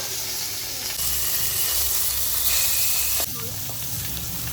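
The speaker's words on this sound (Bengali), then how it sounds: "মাছটা প্রায় ভাজাই হয়ে গিয়েছে" Snakehead fish frying in hot oil, a loud continuous sizzle and crackle with a scraping, stirring texture, shifting briefly quieter near the end.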